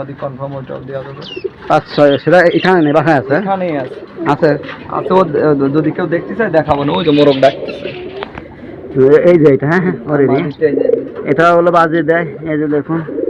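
Fancy pigeons at a bird market coo softly in the background while people talk steadily over them throughout.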